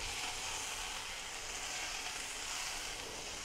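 Butter sizzles in a hot pan with a faint, even hiss and crackle that continues steadily, with no talking.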